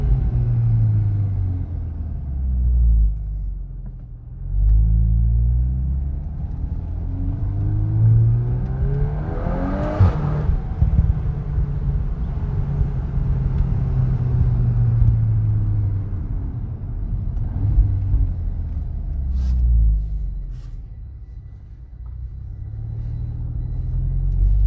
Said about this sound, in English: the gearbox is so aggressive when you rev it, when you rev the thing all the way to red line